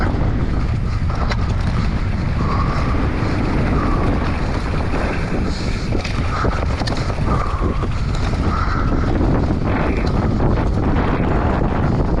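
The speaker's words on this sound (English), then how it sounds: "That wind is intense." Strong wind hammering the microphone at a bike park gives a constant loud rumbling roar with gusty buffeting throughout and no voices.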